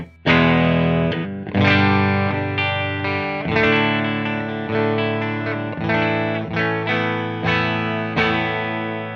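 Distorted electric guitar on its bridge pickup, a freshly restrung instrument from a personal collection, plays loud ringing chords with repeated strums that decay between hits, thick with effects and no talking.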